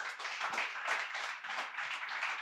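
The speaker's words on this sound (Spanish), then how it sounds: "Démosle un fuerte aplauso al Señor, por favor." Congregation at a Spanish-language church pastoral anniversary service claps loudly and steadily, a dense burst of applause that holds for the whole stretch.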